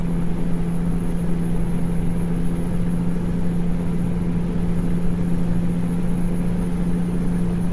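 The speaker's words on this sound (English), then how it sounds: "I just love the sound of this Pete." A Peterbilt truck engine in American Truck Simulator drones steadily at a constant low rumble, hauling a heavy transformer load with no change in pitch.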